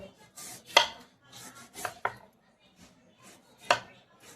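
A knife cuts mango into thin slices for sun-drying, producing about four sharp, quiet chopping strokes against a board, irregularly spaced with soft rustling between them.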